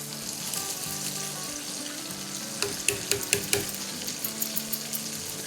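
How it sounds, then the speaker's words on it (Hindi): Soaked rice for biryani is tipped into a pot of vigorously boiling water: a steady bubbling hiss with a run of light clinks and splashy taps partway through, all close and fairly quiet. "हमारा यहाँ पानी जो है ज़ोर और शोर से उबल गया है"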